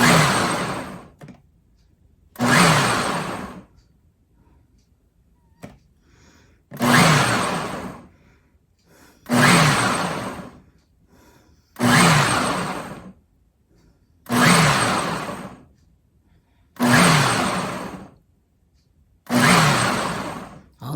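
A kitchen blender on its mince setting runs in eight loud, even bursts of about two seconds each, separated by short pauses, with a whirring roar that repeats in a steady pulsing rhythm.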